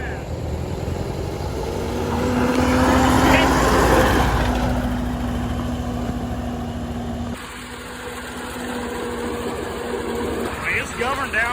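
A cheap $600 tractor's engine drones steadily while driving along, a low mid-pitched hum with a rising surge midway, heard close without talk over it.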